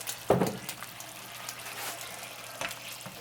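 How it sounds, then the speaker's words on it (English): Beef broth poured over slow-cooked beef short ribs in a pan, heard as a close, soft liquid pour that opens with a brief splash and then runs steadily and quietly, with no talking. "I have some beef broth, and we're just going to pour this all over it."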